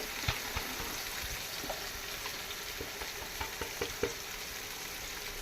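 Tomato gravy with spices sizzling and frying in a pan, a constant bubbling hiss broken by scattered sharp pops and spatters, close and steady with no voices.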